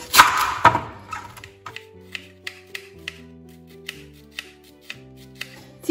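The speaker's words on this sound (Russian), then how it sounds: "Капусту я порежу потоньше." Kitchen knife slicing cabbage thinly on a board for a winter beet salad, a brief crunchy rustle at first, then a regular series of crisp close cuts about every half second.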